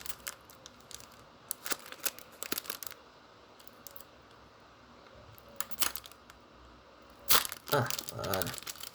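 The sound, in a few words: tearing open a trading card booster pack wrapper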